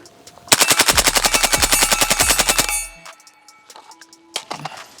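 Radial-delay rifle fitted with a three-position forced reset trigger firing one rapid, even burst of about two seconds, loud and close, with metallic ringing and rattles afterward.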